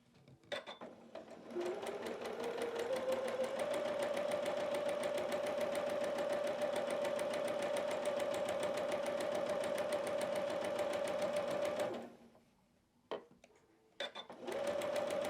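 A sewing machine runs in one steady, continuous stitching stretch for about eleven seconds while two quilt pieces are joined, then stops, followed by a few brief clicks and handling sounds.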